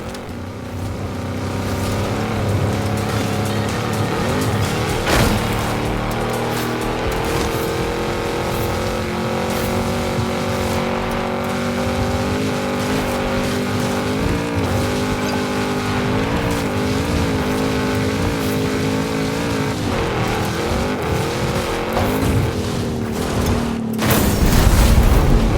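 A car races in the video game Forza Horizon 5, its engine a loud, continuous roar that rises and falls in pitch as it accelerates and shifts, with a heavy thump near the end.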